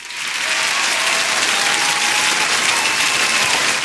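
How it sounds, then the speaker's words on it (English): Studio audience applause welcoming a guest onto a talk show, a loud, steady, dense wash of clapping that holds for several seconds with no talk over it. "Put your hands together and help me welcome Wolf Like"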